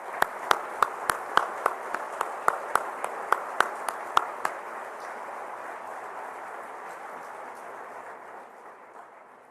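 An audience at a business event applauds the Prime Minister, with a steady wash of many hands clapping and a few louder, sharp nearby claps for several seconds before the clapping fades and thins.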